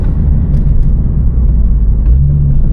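Low, steady rumble of a turbocharged Nissan 370Z NISMO with its VQ engine, heard from inside while driving, a continuous dense drone without talk.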